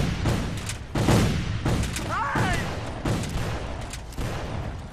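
Black-powder musket volleys in a Civil War battle game set at Bull Run, July 1861, boom out in repeated loud bursts, several shots cracking close together over a dense battlefield din.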